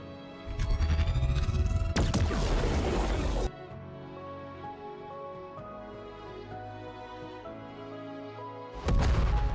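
Heavy booming blasts from a cannon in a video game open the clip, followed by a sustained synthetic hum and musical tones, then another loud burst at the end.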